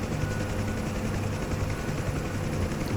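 UH-1 Huey helicopter in the DCS flight simulator, a constant close rotor and turbine drone with a low rhythmic beat and no voices.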